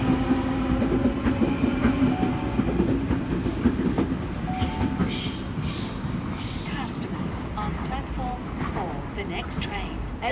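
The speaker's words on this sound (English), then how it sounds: "is now departing platform 4." A passenger train pulls away from a station platform at Auburn in New South Wales, a steady rumble of wheels on rails with clattering joints and rising squeals. It stays loud and close throughout, with people talking under it.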